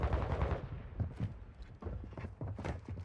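Rapid gunfire bursts from a competitive video game match between Marksmen and Black Pearl, several clustered volleys of shots at moderate loudness with brief pauses between them.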